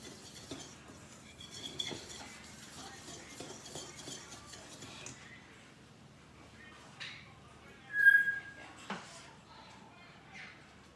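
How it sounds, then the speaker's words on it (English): A whisk stirs a mixture in a bowl with quick, faint, rhythmic scraping and tapping for about five seconds, followed by quieter clinks and handling sounds. "you're just gonna get a whisk and whisk this all around."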